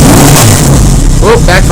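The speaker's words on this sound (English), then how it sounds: "backfire" A 1980 Yamaha XS1100 motorcycle engine revving loud and close, with a sharp backfire pop near the end cutting through the roar.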